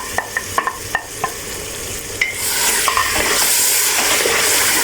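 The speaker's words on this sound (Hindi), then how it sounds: "इसको इतना भूनेंगे कि अच्छे से जो है मसाला और गोश्त अच्छे से भून जाए" Mutton with masala and chopped tomatoes is stir-fried in a pot. A few sharp stirring clacks come first, then a steady close sizzle of frying swells and holds to the end.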